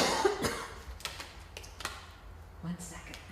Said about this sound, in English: I can't be coughing on the tape